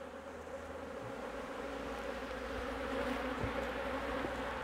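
Honeybees buzz in a steady, dense drone inside an opened hive, close and continuous with no talk.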